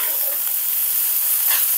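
Loud, steady sizzling hiss of rice being stir-fried with eggs and Maggi masala in a hot pan, close up, with faint scraping of the stirring utensil beneath the continuous frying noise.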